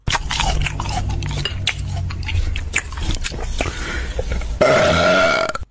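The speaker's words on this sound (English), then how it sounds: "Your burp reminds me of my grandma's." A loud, drawn-out burp near the end, following clatter of dishes and cutlery and chewing noises close by in a restaurant.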